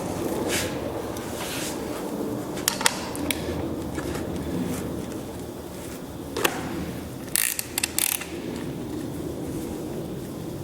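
Bolts on a seat mount for a 2014-or-later Indian Chief motorcycle are tightened by hand, giving scattered metallic ratchet clicks and tool taps over a low room hum, with no talking.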